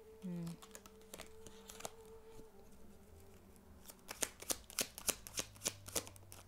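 Tarot cards being shuffled and drawn, a soft rustle giving way to a run of crisp, evenly spaced card snaps and flicks close by, with a steady hum underneath.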